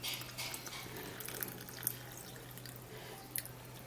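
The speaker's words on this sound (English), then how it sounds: "You're going to be putting warm water into this." Warm water pours into a bowl for an okra dish, a soft continuous trickle with a few faint drips, quiet and close, with a low steady hum beneath.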